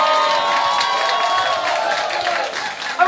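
A crowd at a Robot Rampage World Cup robot combat match between New Zealand and Brazil cheers, whoops and claps loudly and continuously, with children's shouts mixed into the roar.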